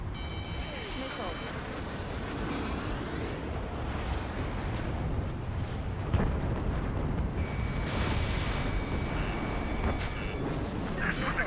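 Missile explosions in Ace Combat 7 come through as a dense, rumbling roar of blasts and booms, layered with jet and combat noise and cockpit alert tones throughout.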